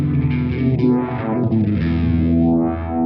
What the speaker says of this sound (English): It's got some flanger on it, you know.